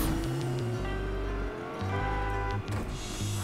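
Engine of a Lamborghini-style car in Fortnite revs up and down in steady gear-like steps, with synthetic tonal whine and brief tire chirps, no talking.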